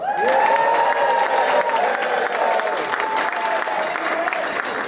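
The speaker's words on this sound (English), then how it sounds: "All right, Joseph, I'm going to give another chance for the crowd to cheer for you" Audience at a university alumni awards ceremony applauding and cheering, a loud sustained wash of clapping with voices rising over it throughout.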